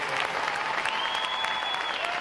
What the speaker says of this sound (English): how about another round of applause for our unit and individual award recipients?